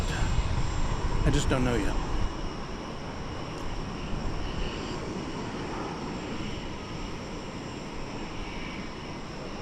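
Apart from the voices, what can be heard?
Alaska Airlines Boeing 737 MAX 8 or 9 jet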